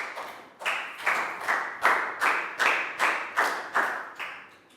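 A classroom of young pupils claps in a slow unison rhythm, about nine even, crisp claps in a row, close and clear with no talking over them.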